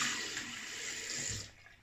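Cold water runs and splashes steadily near a sink as it is splashed on a face, a bright continuous hiss that cuts off abruptly near the end.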